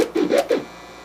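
Three rough, lower turntable chirp scratches in quick succession, smeared and muddier than clean cuts, then fading into quiet.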